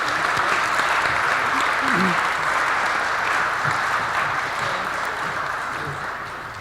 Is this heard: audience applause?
yes